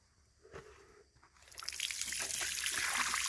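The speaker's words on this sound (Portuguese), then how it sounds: "E agora nós vamos estar enchendo o nosso laguinho com água." Rusty river water pouring into a small garden pond at a country property; after a quiet start with a few drips, a growing trickling splash sets in and continues steadily.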